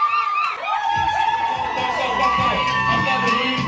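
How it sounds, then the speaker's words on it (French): A celebration crowd cheers and whoops loudly and steadily, with shouts and excited voices layered over music throughout. "on applaudit des ovations"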